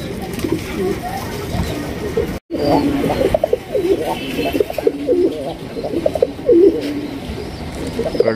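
Pigeons coo repeatedly in a loft at a breeding farm, their soft rolling calls close and steady, layered under someone talking throughout.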